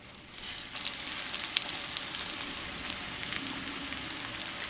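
Bean tacos fry in hot oil in a pan, giving a steady, bright sizzle with crackling pops throughout and no talking.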